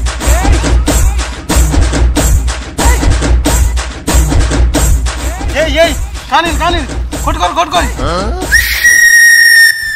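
Loud, lively voices, then a piercing, sustained whistle like a cinema-hall catcall cuts in near the end, shrill and close.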